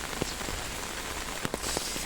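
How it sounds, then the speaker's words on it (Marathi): Steady patter of rain falling on a surface in Konkan, with scattered sharper drops tapping close by; no voices. "आता जरा पाऊस पडत आहे"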